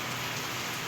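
Heavy rain pouring down in Kothagudem, a dense, continuous hiss of drops striking surfaces, loud and unbroken throughout the short stretch.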